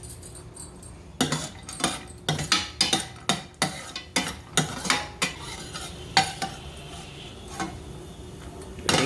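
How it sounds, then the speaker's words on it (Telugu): Cashews and raisins fry in hot ghee as a spoon scrapes and taps the pan in a quick, irregular series of strokes over a faint sizzle, close up and fairly quiet, with nobody speaking. "నెయ్యి వేడైంది, వేసేద్దాం. జీడిపప్పు కిస్మిస్ వేసి"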